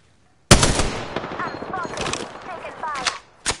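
Weapon fire in an Apex Legends match: a sudden loud volley of shots, then rapid bursts with metallic clinks and a final sharp shot, mixed with game voice lines.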